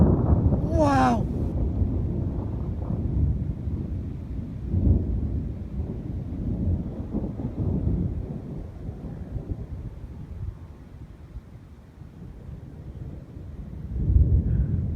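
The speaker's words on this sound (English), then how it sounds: "The storm is insane." A powerful monsoon thunderstorm in Las Vegas, Nevada rumbles with low, rolling thunder and gusting wind buffeting the microphone throughout, swelling again near the end, and a brief voice sounds at the start.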